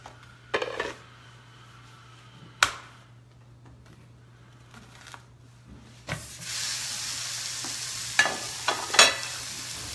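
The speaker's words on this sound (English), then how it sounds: "I'm going to brown the ground beef" Ground beef browns with a soft sizzle in a Ninja pan, with a spatula scraping and stirring in occasional clinks; the frying grows louder toward the end.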